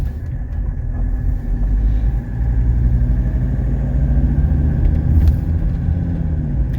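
A 1982 Mercedes 300D diesel drives down a road, its steady low engine rumble and drone continuing loud and close throughout, swelling slightly as it picks up.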